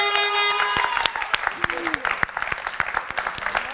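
Someone clapping enthusiastically on a Greek cooking show, a run of quick sharp claps continuing under lively talk and a raised voice.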